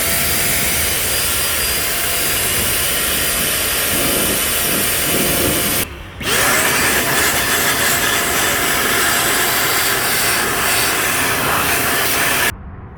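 A mini air blower blasts dust out of a PC in a loud, steady, close-up rushing hiss, cutting out for a split second midway before resuming and then stopping near the end.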